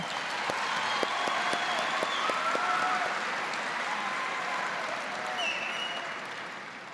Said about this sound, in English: join me in a round of applause for our valedictorian, Aya El Hardin